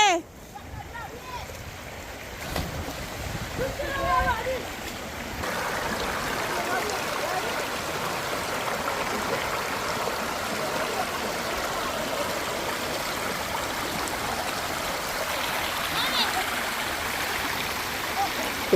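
River water flows steadily with a broadband rushing wash, close and continuous for the full stretch; a few faint voices and small knocks sit near the start before the flow settles in.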